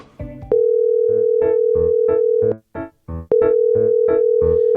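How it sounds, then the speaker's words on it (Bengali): A repeating phone ringback tone, long steady beeps with short gaps, alongside a series of electronic keypad-like tones; no talking. "রিং হচ্ছে ফোনই ধরে না"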